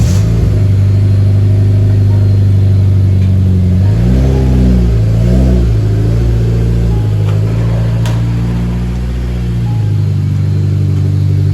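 Mitsubishi Lancer Evo X engine idling with a steady low rumble, close and loud, swelling briefly as the car is lowered and shifted into reverse, then settling back to an even idle.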